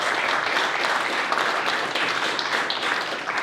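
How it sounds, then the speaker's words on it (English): A conference crowd breaks into dense, sustained applause, many hands clapping at once in a large room, loud and steady throughout with no speech above it. "give yourself a round of applause for being here"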